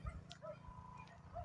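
A small dog whimpers and yips, calling for another dog, with thin high whines and a couple of soft barks, close and fairly quiet, with a faint low rumble underneath.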